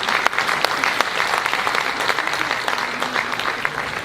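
A crowd at a speech gives a steady, full round of applause, dense clapping sustained throughout with no break.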